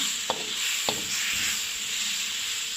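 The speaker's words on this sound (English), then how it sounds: "Add the coconut milk or liquid in, and then you can put it in. Give a good stir." Coconut milk stirred into a garlic, ginger and coriander paste for Kerala fish stew (meen molee): a steady, bright hiss with two soft clicks near the start, no talking.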